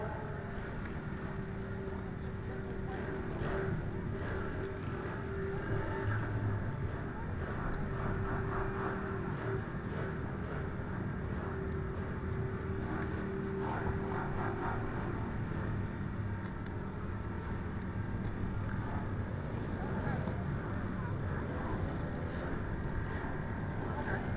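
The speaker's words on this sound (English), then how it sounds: "the 78 bike of Chloe Brookland, the 66 bike of Caden Cracknell, and the 72 bike of Bella Early." Junior speedway motorcycles race a heat at Oreti Park Speedway in Invercargill, their engines making a steady, continuous roar with a droning tone throughout, heard from a distance against broad outdoor noise.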